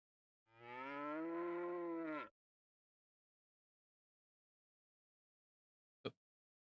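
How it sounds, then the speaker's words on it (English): A single long cow moo from Breath of Fire III, a loud, clear bellow lasting under two seconds, followed by silence and one brief sharp click. "I was hired to take care of the cows."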